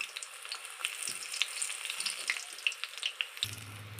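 Besan-coated marinated flower fritters sizzle steadily in hot oil in a wok, a continuous bright crackle with scattered pops, close and moderately loud, and a low hum coming in near the end.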